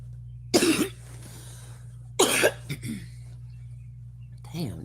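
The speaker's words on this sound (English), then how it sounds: "this fucking cough shit is getting on my goddamn nerves" Two sharp, close coughs from a man who is sick, separated by a quiet pause over a low steady hum, followed by a fainter throat sound near the end.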